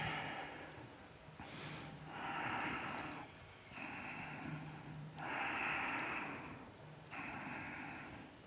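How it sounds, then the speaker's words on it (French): A workshop group doing tendon-stretching exercises breathes in unison, long noisy inhales and exhales alternating in slow, regular waves, fairly close and audible without speech. "Breathing now. Inhale."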